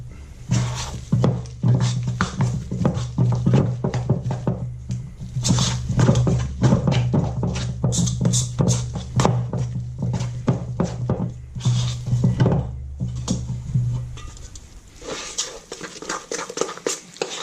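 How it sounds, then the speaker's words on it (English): Chocolate sponge batter stirred by hand in a bowl after cold water is poured in, dense rapid scraping and clattering strokes, close and loud, with a low hum underneath that stops near the end. "pour it in and mix it."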